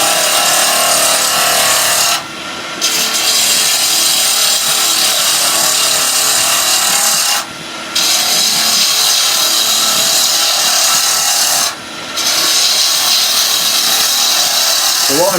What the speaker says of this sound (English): We're going to use the bowl gouge as a roughing tool, as a skew chisel, before we get the main skew chisel working.